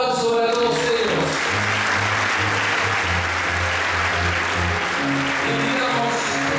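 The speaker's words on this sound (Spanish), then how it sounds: "Un gran aplauso para todos ellos" Applause from a crowd at a Chilean ceremony handing out property titles, dense clapping mixed with steady background music throughout, loud and continuous.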